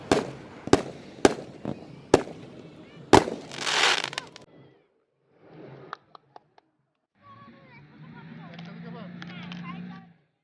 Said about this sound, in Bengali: বারোটা বাজলে কিন্তু আবার ফুটানো হবে আতশবাজি